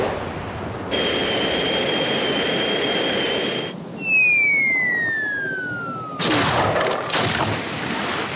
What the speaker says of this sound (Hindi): मेरे पास ये इमरजेंसी गन है। ठीक है, मैं चलाऊंगा, मैं इसमें एक्सपर्ट हूँ।